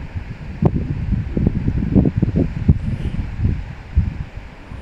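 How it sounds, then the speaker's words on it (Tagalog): Strong gusty wind in Qaqortoq, Greenland buffets the microphone in low, uneven rumbling bursts, loud and close, with faint rustling behind. "Medyo malakas-lakas kasi yung hangin"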